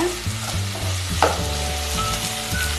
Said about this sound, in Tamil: நம்ம இது ஒரு 5 நிமிஷம் இப்படியே வதக்கிக்கலாங்க.